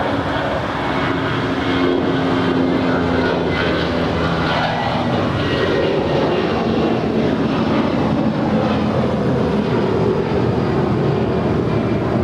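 A Spirit Airlines passenger plane rolls down runway 25 right at Los Angeles International Airport for takeoff, its engine roar a loud, steady broadband rumble that holds for the whole stretch without voices.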